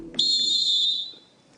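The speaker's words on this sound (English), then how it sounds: "Afraid the whistle went" A single loud whistle blast marks the end of a quiz show round. The piercing, sustained tone lasts under a second and then trails off into quiet studio ambience.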